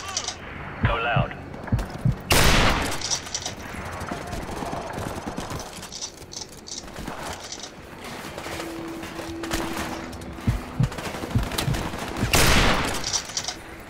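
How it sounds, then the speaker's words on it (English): Loud sniper rifle shots in a Call of Duty: Modern Warfare mission ring out as several separate heavy blasts spread across a noisy combat scene, with voices talking between them. "This is not a stealthy sniper rifle."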